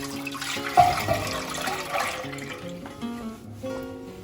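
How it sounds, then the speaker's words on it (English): Milk poured into a pan for crema catalana, a steady close liquid pour and gurgle with a splashy start, running throughout. "Start off by adding your milk,"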